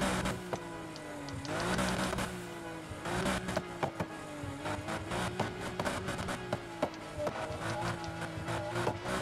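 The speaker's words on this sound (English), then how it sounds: "Exhaust sound." A modified car's exhaust rumbles steadily in the racing game Need For Speed Heat, with repeated revs and surges over a continuous engine drone, loud and close.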